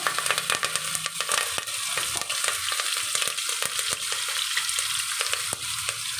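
Mustard seeds and curry leaves frying in hot oil for a country chicken sambar, a steady loud sizzle with scattered sharp pops and crackles throughout, no voices.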